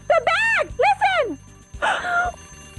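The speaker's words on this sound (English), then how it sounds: "It's an alarm clock." An alarm clock rings inside a bag in two loud bursts of warbling, bell-like tone, then a shorter buzzy burst, with a low hum beneath and no talk over it.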